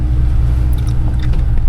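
A camper van drives along a winding mountain road in Corsica, its engine a loud, close, steady low rumble with faint clicks and rattles above it and no voices.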